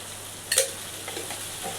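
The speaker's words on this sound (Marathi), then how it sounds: "लसूण अद्रकची पेस्ट टाकूया" Garlic ginger paste hitting browned onions in a hot pan, a brief steady sizzle with a sharp clink of a utensil near the start.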